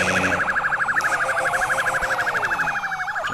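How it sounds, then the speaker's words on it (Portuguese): A police siren from the Brasil Tuning video game wails in a steady rapid up-and-down cycle, loud and close, running alone for the whole stretch. "Liga a sirene."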